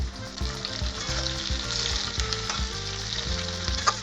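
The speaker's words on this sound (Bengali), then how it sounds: "ভালো করে নাড়াচাড়া করে ভেজে নেব" Onions and tomatoes frying in a pan, a close, dense sizzle with rhythmic scraping and stirring strokes of a utensil, no voices.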